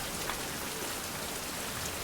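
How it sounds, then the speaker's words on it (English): Steady rain falls in the Fountain of Youth 16th-century survival video game, a dense, even hiss of raindrops that stays constant and fairly loud with no voices. "I'm going to read just to have the rain go away."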